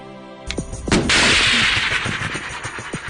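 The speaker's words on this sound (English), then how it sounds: "For being the best shot at this exercise, he gets to fire a live missile from the BMP" A live guided missile launches from a BMP infantry fighting vehicle during an army exercise, a loud blast followed by a roaring, sustained rush that slowly thins out, with no speech.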